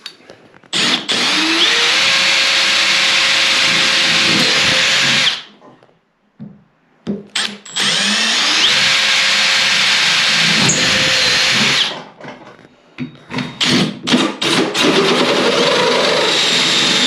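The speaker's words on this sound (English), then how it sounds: "I drill the pilot through first" A power drill drilling pilot holes for bath taps runs loud and steady for several seconds, pauses briefly amid clunks, then drills again in long sustained bursts close by.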